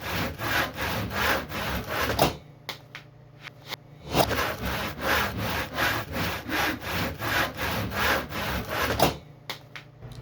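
A hand saw cuts through pallet wood in steady, rhythmic back-and-forth strokes, close and loud, with a short pause partway through before the sawing resumes. No one speaks.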